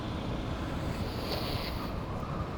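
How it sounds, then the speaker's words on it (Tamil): Steady wind gusting outdoors along a tree-lined road as rain approaches, a constant broad rushing roar buffeting close to the microphone, with no voices. "இந்த காற்றுக்கு"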